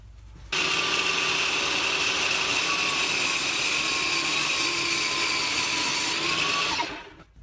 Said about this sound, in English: We'll set the table saw up just to rip one side of the groove off to create a rebate that will accept the lay-in top